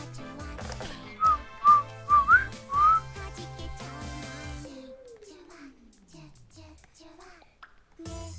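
A few short rising whistled notes sound near and moderately loud over a bed of music, followed by a descending tone and quiet background.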